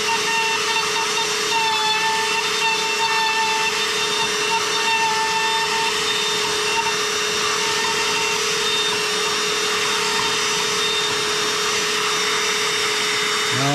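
A router working a new mortise in wood guided by a template over an old mortise, a loud steady high whine with a constant hum running unbroken throughout, close and with no talk.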